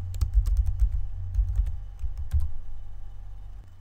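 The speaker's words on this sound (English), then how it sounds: "I'm going to type in the name for this group." A computer keyboard being typed on nearby, a quick run of soft key clicks in short bursts with small pauses, and no voices.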